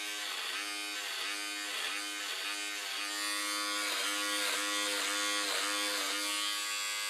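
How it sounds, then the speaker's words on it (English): An electric razor shaves off a moustache, a steady close buzz with a rhythmic pulsing as the blade moves across the face, continuous throughout and not under any talking. "We'll just shave off the middle."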